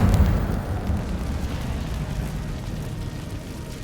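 Incendio fire spell blasting in Hogwarts Legacy gameplay, a loud roaring whoosh of flame that bursts at once and then slowly trails off into a rumbling hiss.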